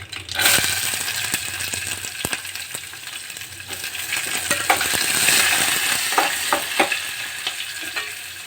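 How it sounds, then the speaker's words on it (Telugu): Onion hitting hot oil in a spice tempering of urad dal, dried red chillies and curry leaves, a loud steady sizzle with scraping stirs and sharp clinks of a spoon against the pan. "ఇలా పోపు వేగిపోతానే ఆనియన్ వేసుకుందామండి."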